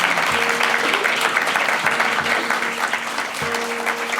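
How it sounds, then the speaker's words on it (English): A small group in a radio station's live studio claps after a performance, a loud, close, continuous rush of applause with a faint low hum underneath. "think we can applaud that."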